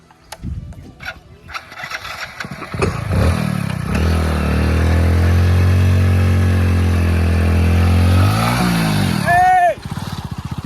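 A motorcycle engine rattles to life, settles into a steady loud idle, then revs up and pulls away, with clatter at the start.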